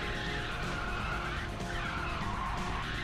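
A car drifts in Ridge Racer 6 on Xbox 360, its tyres skidding in a long, loud, continuous squeal over steady engine roar with no talking.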